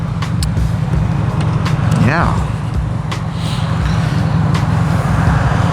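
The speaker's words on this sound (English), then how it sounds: "a lot of traffic actually right now for a Sunday afternoon" Road traffic passing on a Sunday afternoon, recorded from a motorcycle: a steady, loud engine and road roar with a vehicle sweeping by midway, under a rider's talk.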